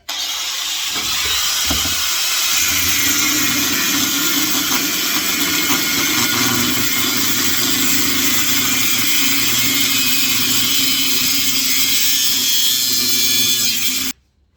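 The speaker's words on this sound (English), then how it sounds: "I've got a grinder sitting right here, so I'll see if I can just chase it around and then chop that top bit out." Angle grinder cutting into the front beam of a VW Beetle Baja: a loud, steady high-pitched whine with gritty metal grind runs continuously for about thirteen seconds after a brief start, then cuts off abruptly.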